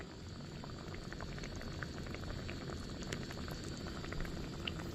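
Spice paste with turmeric, coriander and cumin powders cooks in a pan, bubbling and spluttering in a dense, steady low patter with faint pops, quiet and close, with no voices.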